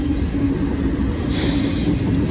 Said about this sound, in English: Anybody else has a video of a northbound CSX train right here?